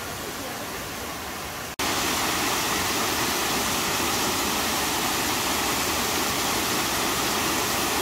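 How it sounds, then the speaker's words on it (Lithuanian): Water rushes through a tunnel in Goynuk Canyon near Kemer, Turkey. A loud, steady roar starts abruptly after a quieter opening and continues without pause to the end. "Ten vanduo bėga."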